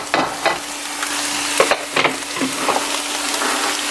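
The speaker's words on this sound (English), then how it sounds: "And just kind of stir fry those around." Bamboo shoots and mushrooms are stir-fried in a pan for lettuce wraps, with sizzling, uneven scrapes and clatters as the food is tossed and pushed around, all fairly close.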